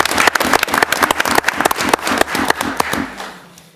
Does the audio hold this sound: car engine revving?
no